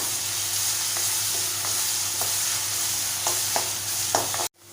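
Onion sautéing in oil over a high gas flame, a loud steady sizzle with periodic soft stirring scrapes, close up, cutting off abruptly at the end.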